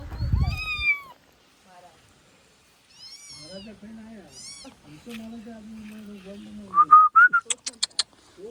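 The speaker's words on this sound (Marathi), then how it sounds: "मस्त आहे तू मांजरा" A cat meows several times, first a few drawn-out calls, then a quick run of short sharp meows near the end, with some speech in between.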